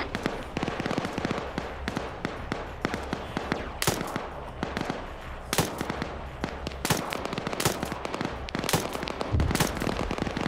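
High-explosive artillery rounds striking in a military video game, a dense, loud barrage of rapid cracks and booms going on without a break, with no talk over it.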